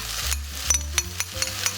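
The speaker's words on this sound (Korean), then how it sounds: "물기가 사라질 때까지 볶을게요." Tomato diet fried rice sizzles in a hot pan while being stir-fried, a steady frying hiss broken by several sharp scrapes and taps of the spatula against the pan, close and moderately loud.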